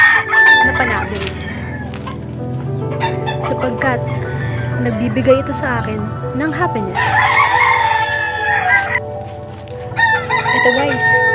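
Fighting cocks crow repeatedly near and loud, with clucking in between, under someone talking steadily throughout.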